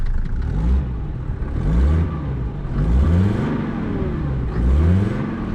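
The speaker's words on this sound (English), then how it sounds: "So you hear the car have some revs. it's like revving up" A 1988 Mercedes-Benz E 250D W124 diesel engine revs up and down repeatedly in steady waves, rising pitch with each push, loud and close with no talking.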